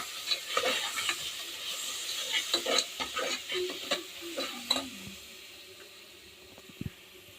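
Gram flour mixture frying and being stirred in a pan with turmeric and salt added, a steady soft sizzle broken by scraping stirs for the first five seconds, then quieter with a single clack near the end.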